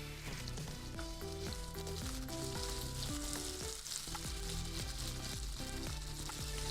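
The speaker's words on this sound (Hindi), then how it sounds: "चलिए, शिमला मिर्च भी डाल दी है।" Capsicum fries and sizzles in a pan for dry chicken chili, a steady hiss running under loud rhythmic background music.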